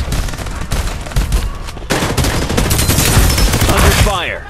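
Gunfire in the shooter video game Farlight 84 sounds as loud, dense automatic bursts and rapid overlapping shots, continuous for several seconds before tapering off.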